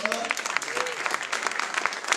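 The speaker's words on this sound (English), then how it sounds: "I would say a big applause for him" Audience applause at a tech meetup, a dense patter of clapping filling the room continuously with a voice briefly audible underneath.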